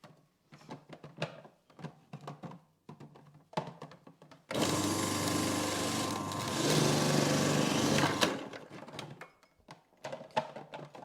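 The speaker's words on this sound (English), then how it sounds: "we're going to start with our carrots, and we're just going to grate them straight into our Food Pro." A Magimix food processor whirs loudly for about four seconds as it grates carrots for carrot cake, with the motor pitch shifting as the pieces are fed in, and scattered clicks and handling noises before and after.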